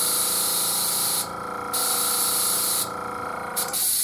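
An air compressor for an airbrush runs with a steady, fairly quiet whirring hiss and briefly dips in level twice before cutting off near the end, with no talk.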